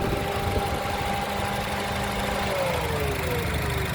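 A 2021 Honda Brio E with manual transmission idles close by, a steady smooth engine hum with faint mechanical ticking and no speech.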